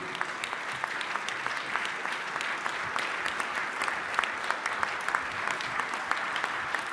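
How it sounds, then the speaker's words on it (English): An audience at a firefighter awards ceremony applauds steadily, a broad patter of many hands heard from a distance, fairly soft and sustained without pause. "I want to give you guys a round of applause."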